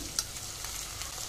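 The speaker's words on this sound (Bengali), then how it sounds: "এঁচোড়টা খুব ভালো করে ভাজা ভাজা করে নিয়েছি। এবার দিয়ে দিচ্ছি মশলা" Green jackfruit fries in hot oil as spices go in, a steady soft sizzle with a sharp spatula scrape near the start, close and fairly quiet.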